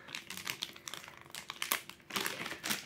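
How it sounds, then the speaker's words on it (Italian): Plastic packaging bag being pulled open, with quiet, close crinkling and crackling in irregular bursts over a few seconds, no voices. "Adesso ve lo vado ad aprire."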